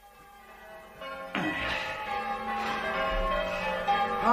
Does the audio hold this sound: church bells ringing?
yes